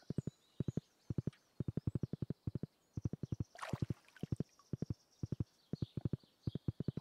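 Horse hooves clip-clop steadily in the Stardew Valley farming game, quick paired and triple beats repeating at an even walking rhythm, close and clear, with a brief noisy burst midway.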